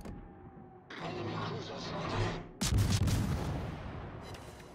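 Warship guns fire in World of Warships, a heavy booming blast followed by a louder, sharper salvo, rumbling close and loud with a faint voice underneath.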